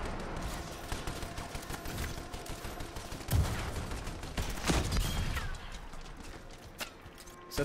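Turret gunfire in the video game Anthem rattles in rapid bursts over a dense wash of game noise, with a couple of heavier impacts partway through.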